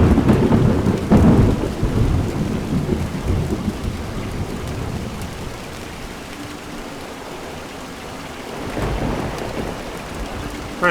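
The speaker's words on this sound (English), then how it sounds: "Again, it's raining, so I'm going to stop talking." Heavy rain and rolling thunder in the video game Montague's Mount, loud and continuous. Deep thunder rumbles swell near the start and again near the end over a steady hiss of rainfall, with no voices.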